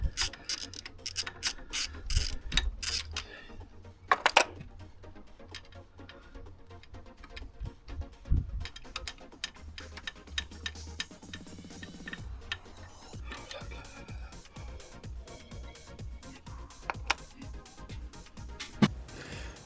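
Glow plugs being unscrewed from the head of an Isuzu D-Max diesel engine, giving a steady run of close ratchet clicks and small metallic ticks with brief louder knocks, no talking.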